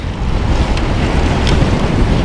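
Steady, loud wind roaring across the microphone, a continuous low rumble with gusty hiss and no voices.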